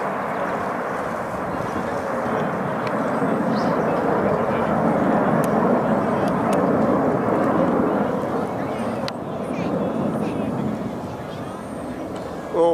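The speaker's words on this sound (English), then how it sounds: "The Super Hornet is the backbone of the U.S." Several U.S. Navy Super Hornet jets fly overhead at an outdoor air show, a sustained, broad roar that swells and holds steady, loud and rumbling throughout.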